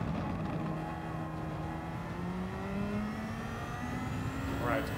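A race car engine in Gran Turismo 7 revs steadily upward, a loud droning whine rising in pitch through the gear, with a voice speaking over it.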